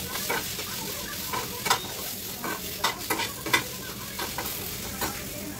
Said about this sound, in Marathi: टोमॅटोसुद्धा यामध्ये टाकून थोडेसे फ्राय करून घ्यायचे आहे